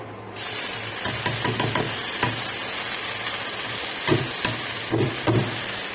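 Greens hitting hot oil in a wok-like kadai with garlic, black cumin and a green chilli, a loud continuous sizzle and hiss with crackling pops scattered across it.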